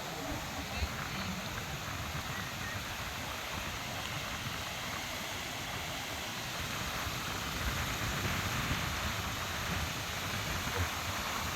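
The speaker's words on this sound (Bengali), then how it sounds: "আপনারা দেখতে পাচ্ছেন প্রচুর পরিমাণে ঢেউ আছে, অনেক বড় বড় ঢেউ।" Big sea waves at Cox's Bazar beach give a continuous broad roar of surf, steady and fairly loud, with no distinct breaks between waves.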